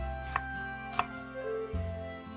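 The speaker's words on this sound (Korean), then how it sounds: "양파도 반개 150g 준비하셔서 역시 깍둑 썰기로 준비해 주세요." Half an onion, about 150 g, being diced into cubes with a knife on a cutting board, giving two crisp separate chops and then a softer knock, over a steady background hum, with no talking.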